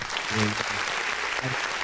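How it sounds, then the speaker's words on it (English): A short burst of crowd applause played as a sound effect on a live radio stream, loud and brief, fading out after under two seconds. "Let me get that applause real quick."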